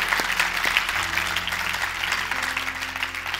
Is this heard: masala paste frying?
no